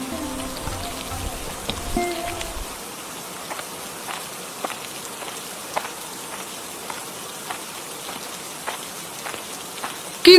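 Rain falls on a village setting during monsoon season, a steady soft patter with scattered brief drop taps throughout, continuous and even, with a low hum in the first few seconds and no talking.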